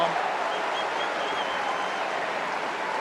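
Steady applause from a tennis crowd at the ATP Rome tournament, a continuous even wash of clapping filling the whole stretch at moderate distance, with no distinct voices standing out.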